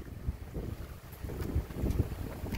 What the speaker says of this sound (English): Yeah, it's a windy. It is windy.